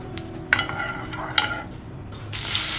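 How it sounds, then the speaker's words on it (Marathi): Small chivni fish dropped into hot oil in a pan at a village kitchen, with a few clattering handling knocks, a sputtering sizzle, then a loud, steady hiss of frying rising at the end. "तर आता इकडे आईने टाकते पॅनमध्ये मासे बघा फ्राय व्हायला."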